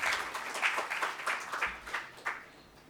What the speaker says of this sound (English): Can we have a big round of applause for Mr.